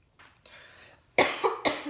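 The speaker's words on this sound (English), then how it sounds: "I'm still got such a cough and cold." A person with a cold coughs two or three times in quick succession, close and fairly loud after a soft breathy lead-in.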